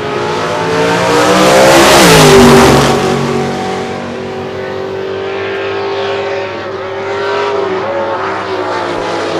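Two drag racing cars, a Chevrolet Bel Air and a Camaro, accelerating down the strip with a loud roaring engine note that swells to a peak and then holds as a strong, steady drone.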